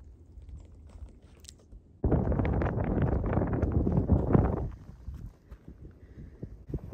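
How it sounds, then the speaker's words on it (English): Wind gusts on the Appalachian Trail in North Carolina, a loud rushing blast against the microphone lasting a few seconds before easing back to a lighter breeze. "the wind has really picked up"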